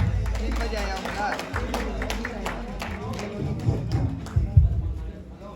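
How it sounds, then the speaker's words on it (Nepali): A live audience claps loudly for a guest speaker at the Altitude World Supermodel Nepal modelling event in Mahendranagar. The clapping is a dense, steady wash with thumps and cheering, and voices carry through it. "सो लेडिज एन्ड जेन्टलमेन, कृपया उहाँको लागि एकचोटि जोरदार ताली"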